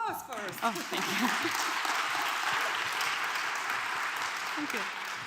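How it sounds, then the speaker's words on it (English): A conference audience at a health-tech event breaks into sustained applause, a steady dense wash of clapping lasting several seconds, with a few spoken words heard at the start. "Round of applause first."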